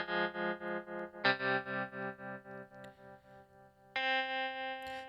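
Electric guitar played through a tremolo effect pedal, sustained chords pulsing in rapid volume swells that ebb and shift as new chords enter, heavily processed and clear with no talking.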